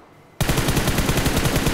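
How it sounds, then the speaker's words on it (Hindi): Rapid automatic gunfire in a battle royale game bursts in suddenly after a moment of quiet and rattles on continuously, loud and close. "पीछे की साइड भाई फायर हुआ"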